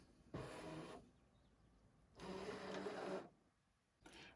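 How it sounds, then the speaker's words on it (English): A cutting machine draws a cutting mat in, making two bursts of whirring motor and roller noise separated by a short pause, with a third burst starting at the end; close and moderately loud, no talking. "hit that mat button, and that will load it into the machine"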